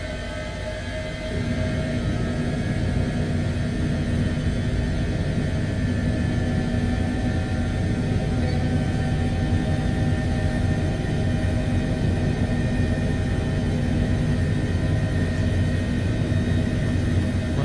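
A simulated Airbus H145 helicopter idles with its engines set to flight in Microsoft Flight Simulator, giving a continuous, even turbine hum and low rumble that holds steady throughout.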